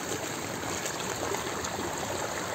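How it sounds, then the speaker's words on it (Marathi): Water flowing through a stream in a farm field, a steady broadband rush and trickle that runs unbroken and fairly close for the whole stretch, with no voices. "हे बघा किती पाणी वाहतं इकडे."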